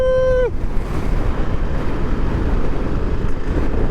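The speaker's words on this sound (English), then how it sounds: "Woo, it's windy!" Strong wind buffets the microphone by the ocean, a loud continuous roar with surf beneath, after a brief tonal whine fades at the start.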